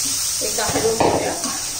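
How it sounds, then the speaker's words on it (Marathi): Egg masala made with tomatoes is stirred in a pan, giving a short burst of sizzling and scraping spoon strokes over a steady hiss, with a voice speaking briefly partway through. "एकदा हलवून घेऊया।"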